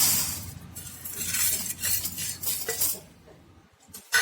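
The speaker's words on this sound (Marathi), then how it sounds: "त्यामध्ये टाकणार आहे हरभऱ्याची डाळ" Roasted chana dal poured into a large metal paràt in a home kitchen, a continuous dry rattling cascade of grains on metal that fades out near the end, with no voice over it.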